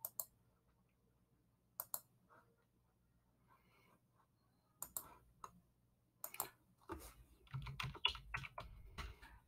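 Numbers are typed on a computer keyboard in scattered, close key clicks, sparse at first and then a denser flurry of taps toward the end.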